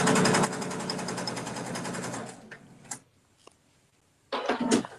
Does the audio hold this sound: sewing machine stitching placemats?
yes